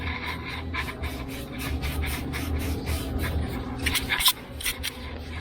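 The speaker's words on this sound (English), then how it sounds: "we're going to clean up this screws here with some emery cloth, just like so" Emery cloth rubs the eye of a BMW thrust rod bushing to deburr it, giving a steady series of close, rhythmic rasping strokes with no talk.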